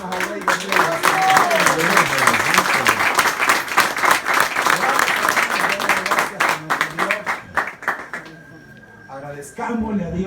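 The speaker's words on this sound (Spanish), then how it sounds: "¿Por qué no le damos una ofrenda de palmas al Rey de Gloria?" A church congregation applauds during a service with loud, dense, sustained clapping that continues for about eight seconds, then thins and fades as voices come through.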